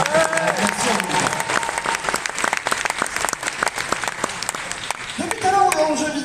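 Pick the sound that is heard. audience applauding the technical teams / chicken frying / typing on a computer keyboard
audience applauding the technical teams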